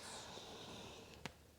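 A deep breath drawn during a vinyasa yoga flow, a soft, airy inhale-exhale heard alone and fairly quiet, ending with a short, sharp puff.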